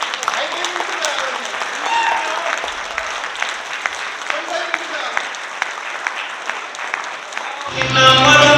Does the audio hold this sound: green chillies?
no